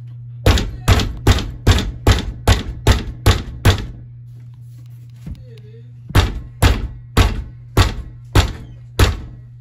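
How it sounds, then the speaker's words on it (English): Someone bangs hard on a door. Two bursts of loud, heavy thuds, about ten blows in quick rhythm, then a short pause and about eight more, all close and booming. "I'm gonna keep banging on this door and it's gonna fall down."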